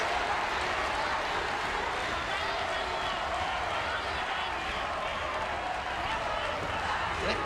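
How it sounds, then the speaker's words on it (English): Large arena crowd at a Paralympic judo bout in Rio roaring and cheering steadily, a dense continuous wash of voices and clapping with no break throughout. "She's got the whole crowd behind her. The crowd absolutely up for this."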